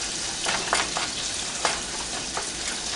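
Ground meat for taco salad browning in a pan, a steady close sizzle with scattered sharper crackles and pops throughout, no voices.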